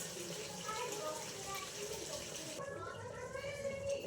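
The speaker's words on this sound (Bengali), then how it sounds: "এখন একটু জল দেবো, গরম জল দেবো" Hot water pours from a vessel into a cooking pot of meat on the stove with a continuous rushing splash, then fades to a quieter bubbling trickle.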